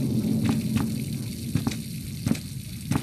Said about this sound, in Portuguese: Será que eu tenho que ligar a torneira?